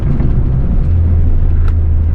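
A Mitsubishi sports car cruises along a winding mountain touge road, heard from inside as a constant loud low engine and road drone with slight shifts in tone and no talk.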